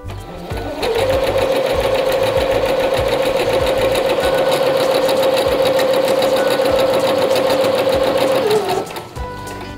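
A sewing machine runs a long line of gathering stitches through fabric, about 5 mm from an earlier row, producing a loud, steady, close motor whir that starts and stops cleanly.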